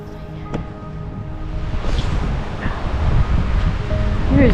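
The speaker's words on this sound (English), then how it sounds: "It's a nice cool breeze." A cool breeze blows through a creekside forest, a steady broad wind rush that swells gradually and grows louder toward the end, with no voices.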